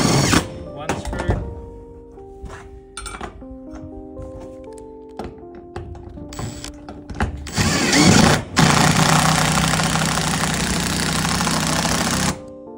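A power drill drives a screw through a Starlink mount base plate into a Colorbond metal roof, whining in steady pitched bursts with knocks and clunks, then a long loud grinding run as the screw bites into the sheet metal.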